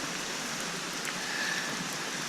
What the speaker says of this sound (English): rain is absolutely relentless